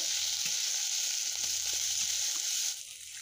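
Chopped onion, garlic and three to four green chillies frying in oil in a pan, a loud, dense, steady sizzle close up, with a few soft stirring thumps underneath, easing slightly near the end, no voices.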